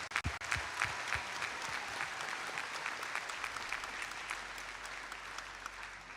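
An audience at the Peachtree District Championship gives sustained applause, a dense even wash of many hands clapping from some distance after a few sharp nearby claps at the start.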